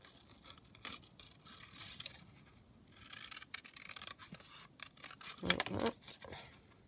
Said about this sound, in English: So I'll just cut her out.